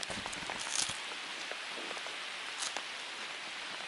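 Steady rain patters close by in a continuous hiss, with a few louder drips and rustles now and then, no voices.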